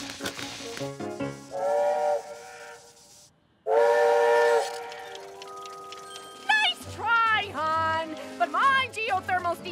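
A loud steam whistle on a geothermal steam-powered clock blows in sustained tonal blasts with hissing, amid music and other sounds, followed by shorter whistle-like tones.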